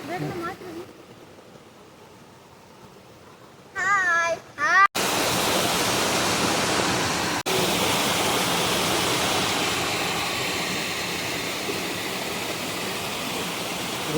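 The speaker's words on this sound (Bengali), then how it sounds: "পিটি দিদি ঝর্ণার একটা ভিউ দেখাচ্ছি" The Pitidiri waterfall in Bengal roars as a loud, steady broadband rush of falling water that fills most of the clip, after a brief quieter stretch with voices near the start.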